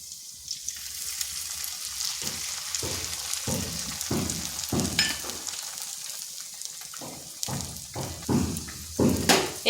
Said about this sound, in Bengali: এখানে সামান্য একটু তেল দিচ্ছি। এরপর দিয়ে দিচ্ছি একটা ডিম।